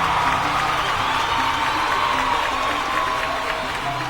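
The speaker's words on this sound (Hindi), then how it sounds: "इसलिए आपके लिए एक बार जोरदार तालियां बजाइए।" Crowd applauding and cheering with whoops at an organic agriculture product event in Kolkata, a steady dense wash of clapping and voices that holds evenly for the whole stretch.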